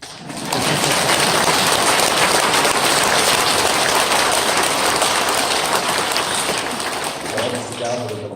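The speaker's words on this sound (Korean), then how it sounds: "박수 좀 치시고" Dense, steady applause from a crowd fills the clip, a broad wash of many hands clapping at once that fades slightly near the end.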